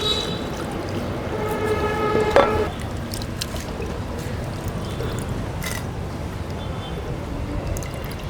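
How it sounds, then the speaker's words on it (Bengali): Olive barb (puti) fish being rinsed in water, with steady splashing and sloshing throughout and a brief pouring trickle near the middle. "এখন আরও কয়েকবার ধুয়ে নিচ্ছি।"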